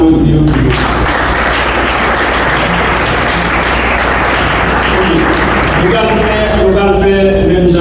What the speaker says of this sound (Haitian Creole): Maintenant, pour nous applaudir.